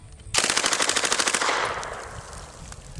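A rifle fires a rapid string of about fifteen shots at targets, evenly spaced and loud and close, then the shots stop and a reverberant tail fades away.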